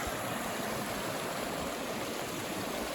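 A mountain creek in the John Muir Wilderness rushes in a steady, dense wash of water from close by, with no voices.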